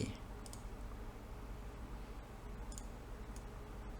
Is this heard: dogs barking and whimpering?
no